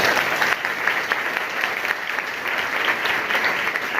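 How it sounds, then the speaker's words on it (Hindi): Sustained, dense clapping from an audience at a school event at Mahamaya Ramabai Vidyalaya in Varanasi, steady and fairly loud throughout with no pauses. "एक बार जोरदार ताली चाहूंगा।"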